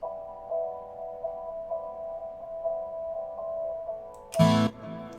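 A guitar treated with a dynamic EQ band boosting around 680 Hz in an FL Studio mix plays sustained, evenly repeated notes alone, then a short loud burst near the end.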